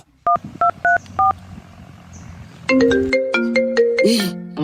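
A phone rings with an incoming call: a short run of four bright two-tone beeps, a quiet pause, then a louder melodic ringtone with stacked repeating tones that carries on to the end, close and clear, with no talk over it.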